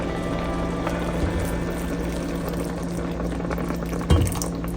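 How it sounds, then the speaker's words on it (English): Hot water pours steadily and close for several seconds, a continuous rushing splash over a low hum, with a brief bump near the end. "Here I'm adding some hot water."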